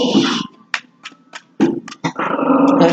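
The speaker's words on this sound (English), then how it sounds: "My dog does not like the fireworks" A dog reacting to fireworks growls low and steadily, broken by a few short sharp yips or whimpers, close by and fairly loud.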